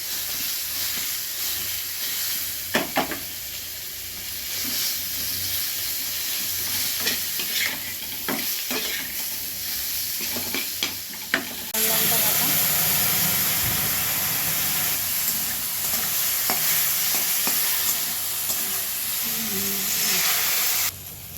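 Pointed gourd slices frying in a pan with turmeric and salt, a continuous close sizzle with repeated spatula scrapes and clatter, growing louder and hissier partway through, with no talk over it.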